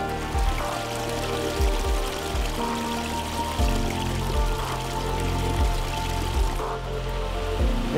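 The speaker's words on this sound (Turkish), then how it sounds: "Bir haftalık yağmur bir günde yağıyor." Heavy rain pours onto a caravan parked by the seaside during a storm, a dense, steady drumming on the roof with scattered heavier thuds throughout and no voices.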